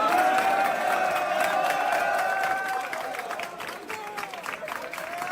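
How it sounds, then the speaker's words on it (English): Studio audience applause and cheering fill a talk-show room, loud at first and easing slightly toward the end, with a steady wash of clapping mixed with crowd noise and faint whoops. "That is the wrong kind of applause, Ben."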